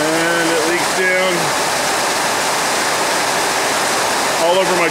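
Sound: water leaking from carport roof onto truck

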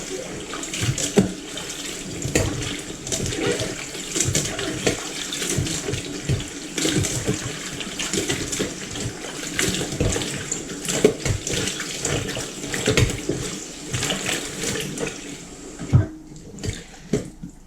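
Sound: rinsing eggplants under running tap water

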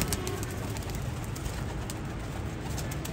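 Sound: pigeons cooing

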